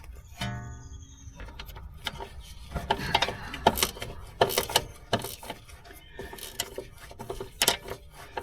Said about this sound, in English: I can finish it up with a 10mm gear wrench